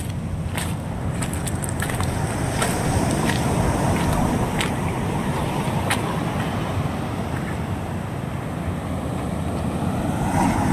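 Sea waves wash steadily along the shore at a seaside in Mindoro, a continuous broadband surf roar mixed with wind buffeting the microphone, with a few faint clicks and no talking.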